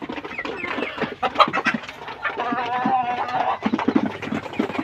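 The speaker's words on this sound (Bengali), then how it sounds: "এগুলো ডিমের মুরগি সব" Egg-laying hens cluck steadily and close by in a poultry shed, their overlapping calls layered into a busy, continuous chorus with no gaps across the stretch.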